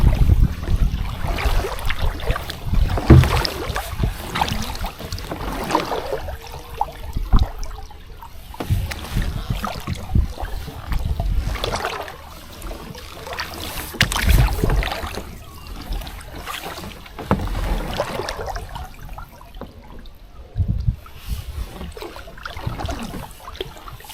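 Water swishes and trickles as a canoe paddle dips and pulls in slow repeated strokes on a calm lake, with faint knocks against the hull.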